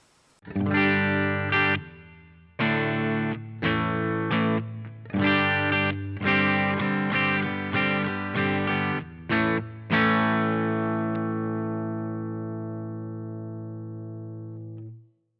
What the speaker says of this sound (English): Just a clean amplifier and some reverb